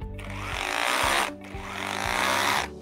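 The M21-RH2603PLUS cordless rotary hammer drill runs in chiselling mode, two loud bursts of rapid rattling hammering separated by a short pause, close and harsh.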